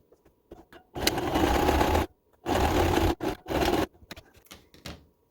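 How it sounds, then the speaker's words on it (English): Sewing machine running straight stitches along the side seams of t-shirts, three close bursts of even mechanical whirring separated by short pauses, with faint handling noises between. "So now we're just sewing up the sides of these t-shirts."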